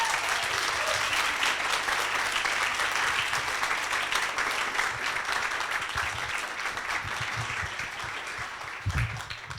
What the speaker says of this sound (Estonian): palun teeme suure aplausi neile